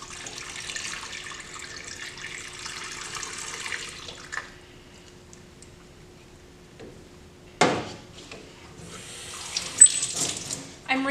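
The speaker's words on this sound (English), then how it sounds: "I'm rinsing my funnel." Tap water runs steadily into a sink while a funnel is rinsed during darkroom film processing, then stops, followed by a few clattering knocks and a renewed splashing burst near the end.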